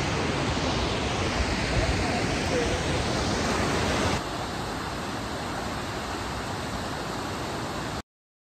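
A mountain river rushes near Tawang monastery, close to a large waterfall: a loud, steady broadband roar that runs continuously and drops slightly in level partway through, with no other sounds standing out.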